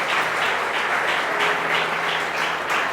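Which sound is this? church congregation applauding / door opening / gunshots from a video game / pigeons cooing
church congregation applauding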